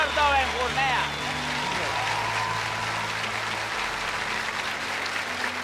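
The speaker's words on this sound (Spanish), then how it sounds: "vamos a darle otro fuerte aplauso grande" Audience applause at a live comedy show, a loud crowd clapping continuously from start to end, with a few tonal voices or music over the opening second and a steady wash of hands after.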